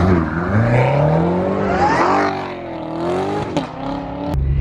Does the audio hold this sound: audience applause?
no